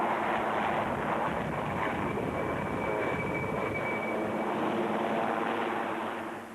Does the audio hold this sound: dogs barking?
no